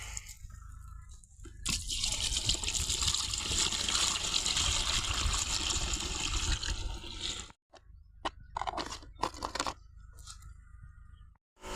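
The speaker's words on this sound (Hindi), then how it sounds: "अभी इस खड्डे से पानी भर लेंगे।" Water being scooped and filled from a pit in a cumin field, splashing and gurgling steadily for several seconds, then a pause and a few separate clunks and splashes.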